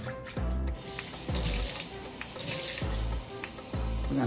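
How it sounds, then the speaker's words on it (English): Tap water splashes steadily into a sink from a container being emptied, a continuous rushing pour with several dull knocks recurring through it. "we're gonna go ahead and dump the tap water"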